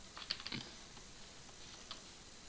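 Brief burst of computer keyboard typing during a Minecraft server session at night, a quick cluster of light clicks early on, then quiet until one more faint keystroke near the end, no talking.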